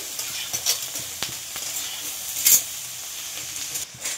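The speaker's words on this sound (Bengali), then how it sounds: "ভালো করে নেড়ে চেড়ে একটু ভেজে নেব।" Mixed vegetables for mutton chowmein are stirred and fried in a pan, with a low steady sizzle under repeated sharp clinks and scrapes of a utensil against the metal. No voices are heard.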